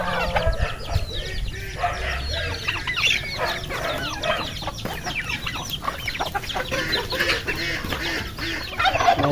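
Chickens cluck and a rooster crows near the feeding spot as they are given leftover food, a busy, continuous chorus of overlapping calls close by.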